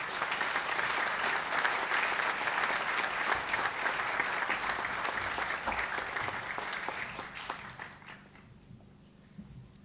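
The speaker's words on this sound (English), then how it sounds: "Let's give Ruth a round of applause." Audience applause at the NSCC Spring 2021 commencement ceremony: full, energetic clapping from a crowd that holds strong for several seconds, then thins and fades away near the end.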